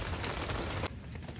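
Rain pours during outdoor cooking as a steady, close broadband hiss of drops on a surface. It drops off sharply partway through, leaving a softer patter.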